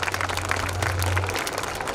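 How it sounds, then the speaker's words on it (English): Audience clapping at a school annual day celebration, a brief burst of applause filling the hall with a low hum beneath. "A huge round of applause. Audience, please clap and motivate our children."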